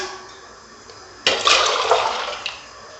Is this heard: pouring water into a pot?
yes